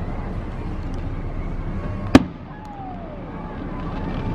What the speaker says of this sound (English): Look at this, fireworks in May.